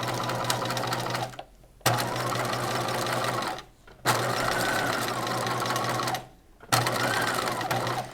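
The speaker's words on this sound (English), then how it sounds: "I am going to stitch a 1/4 inch to the right side of the center front seam" A sewing machine stitches a quarter-inch seam on the center front of a bodice, running steadily in four long bursts with short pauses between.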